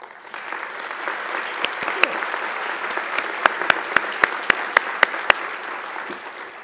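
An audience applauds at a university commencement ceremony, with steady, sustained clapping filling the hall and a few sharper, louder claps standing out near the end.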